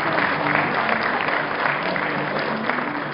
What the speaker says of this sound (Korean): 축하 박수 부탁드리겠습니다